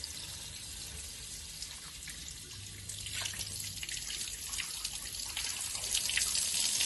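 Water spraying from a garden hose with a thumb covering about half the outlet, speeding up the stream in a fluid mechanics experiment; a steady hissing, splashing rush that grows louder and harsher partway through, without talk.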